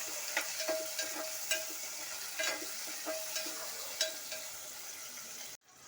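Finely chopped tomatoes cook in a pan for dal khichdi with a soft, steady sizzle and a series of light tapping stirs, then it cuts off abruptly at the end.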